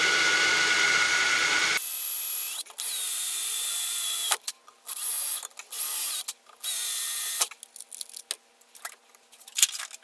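A number 19 drill bit cuts into a Morris Minor window frame, heard as a loud, steady high whine in several bursts with brief pauses between them, close up and alone.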